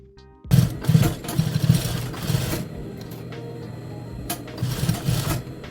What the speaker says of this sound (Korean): 자, 이제 박음질 시작해 볼게요.